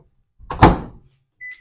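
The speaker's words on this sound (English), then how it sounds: "I'm going to soften it in my microwave" A kitchen microwave softening two ounces of cream cheese gives a short thud or clunk of its door or mechanism, followed a moment later by a brief tonal beep, close and alone.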